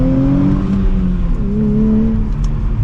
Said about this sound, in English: setting off now in the Nissan Z